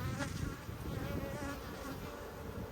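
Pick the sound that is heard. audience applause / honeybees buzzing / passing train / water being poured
honeybees buzzing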